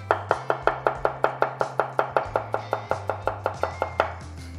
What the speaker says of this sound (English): Look at how fast I can cut up the serrano pepper.